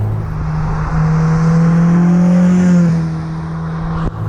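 A 240 HP all-wheel-drive Mini fitted with a Honda VTEC engine, heard close. It gives a steady loud drone that rises slightly in pitch and then eases off, ending with a sharp knock.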